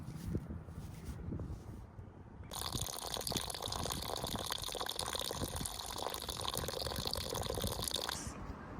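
Water pours steadily into the soil of a freshly potted plant for several seconds, a rushing splash that starts abruptly and stops near the end, with no talking.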